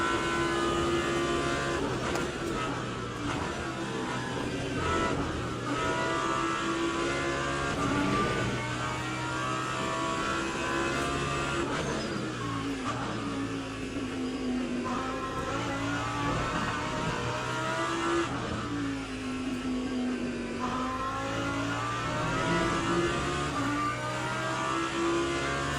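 A race car engine from the Le Mans Ultimate sim racing game, driven on a lap of Sebring, revs up and down continuously through gear changes and corners, loud and close with no talking.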